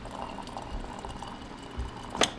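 Hot water poured from a kettle into a container for soaking cotton rope: a steady, fairly soft splashing trickle, ending with a brief brighter splash.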